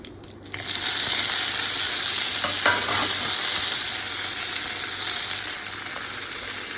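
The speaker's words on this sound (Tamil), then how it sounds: "இது ஓரளவுக்கு பொரிஞ்சதுக்கு அப்புறமா நம்ம இந்த கருவேப்பிலை பச்சை மிளகாயை போட்டுட்டு அப்புறம் அவரைக்காய் போட வேண்டியதுதான்" Curry leaves, green chili and chopped broad beans sizzle loudly in a hot oiled pan, a dense, steady crackling hiss that swells after a brief start and holds evenly, with faint stirring scrapes and no voices.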